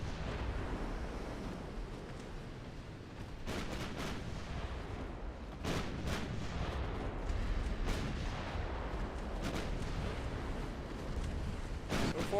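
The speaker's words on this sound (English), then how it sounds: "I don't want those 7-inch guns firing at me" Heavy 7-inch naval guns fire in a dreadnought-era sea battle, several booming blasts spaced irregularly over a constant low rumble of sea and engines, loud and close with no voices.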